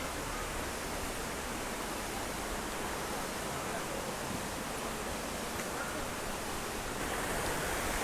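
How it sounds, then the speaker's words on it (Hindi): Water pouring down Palshe waterfall at Tamhini Ghat near Pune in the Kundalika Valley, a steady, dense broadband rush that holds evenly throughout, close and full, with no talk over it. "तो वाटरफॉल का पानी आ रहा है"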